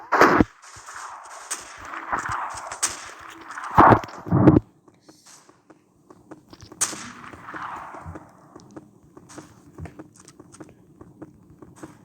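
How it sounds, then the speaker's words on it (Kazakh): Automatic sniper rifle gunfire in the game Special Forces Group 2, with several loud, sharp shots clustered in the first few seconds, then quieter footsteps and scattered distant shots over a low background. "Күшті автоматтық снайпер."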